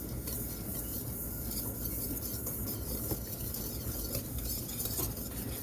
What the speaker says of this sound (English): I'm just going to go in here with a whisk, and I'm just going to mix this nice and